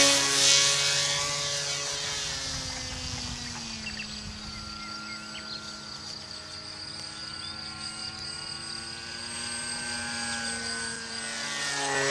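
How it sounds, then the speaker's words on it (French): Steady high-pitched electric motor whine with propeller buzz from a rear-mounted pusher motor on a model airplane, holding a constant tone throughout, fairly close, with faint insect chirping in the background. "c'est un avion électrique"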